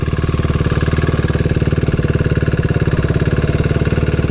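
A motorcycle engine running steady and close as the rider gives gas in first gear and begins to pull away slowly, a loud rapid even thrumming pulse with no audible rise in pitch.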